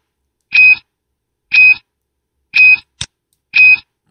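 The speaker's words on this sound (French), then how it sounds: "pour savoir si vos deux antennes sont bien alignées, vous pouvez faire alignement bip." Alignment beep from a TP-Link Pharos CPE710 outdoor antenna: four loud, evenly spaced electronic beeps about one second apart, heard alone, with a brief click between the third and fourth.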